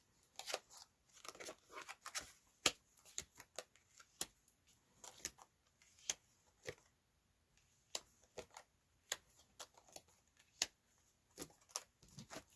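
A deck of oracle cards is handled and shuffled, giving repeated quick riffles and soft slaps close up, with short bursts and brief pauses and no talking.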